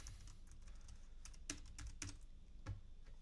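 Quiet typing on a computer keyboard produces a few scattered key clicks in an uneven rhythm over a low background hum.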